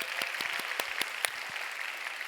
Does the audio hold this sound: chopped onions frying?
no